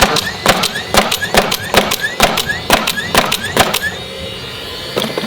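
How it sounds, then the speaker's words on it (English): A DeWalt cordless roofing nail gun fires in quick succession, about ten sharp mechanical snaps evenly spaced, each followed by a short whirring reset, loud and close before stopping into quieter room sound with one last click. "This is our roofing nail gun, so people like this for sure."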